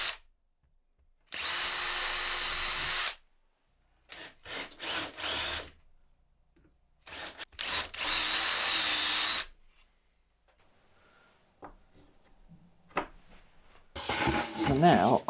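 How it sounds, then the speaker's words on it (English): A power drill with a Forstner bit whirs in several bursts, two long steady runs and shorter stuttering pulses between them, close and loud, with quiet gaps and a rattle at the end. "drill some pilot holes, and then drill down with a Forstner bit"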